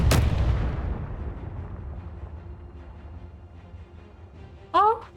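A single heavy blast from a vehicle weapon in Space Engineers booms close and loud, then decays in a long rumbling tail, followed by a brief voice near the end.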